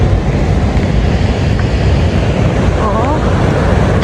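Sea waves crash continuously on the shore near Bilbao, Spain, a loud, dense, unbroken surf roar mixed with wind buffeting, and a brief voice heard once.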